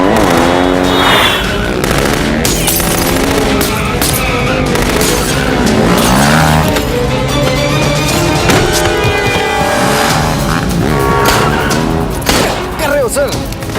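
Motorbikes race away during a Hindi movie chase, a loud continuous engine roar with revving and tire squeals under a dense, busy soundtrack.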